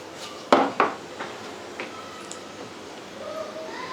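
Whole spices (red chilies, big cardamom and a cinnamon piece) being stirred in a cooking pot: two sharp metallic knocks of a spoon against the pot, then softer, sparse scraping over a quiet hiss.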